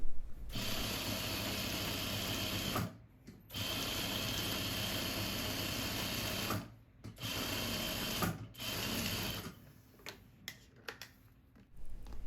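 A sewing machine stitches the princess-line back bodice seams of a classic peplum cardigan, running in long steady bursts broken by short pauses, with no talking.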